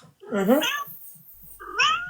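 A house cat meows twice, close and clear, with a drawn-out rising-falling call followed by a shorter one a second later, with faint low background noise between.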